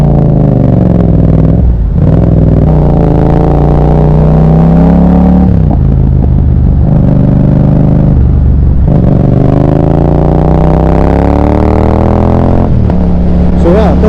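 A Triumph motorcycle is ridden, its engine giving a loud, close rumble that rises and falls through several revving swells and gear changes, while a person talks over it.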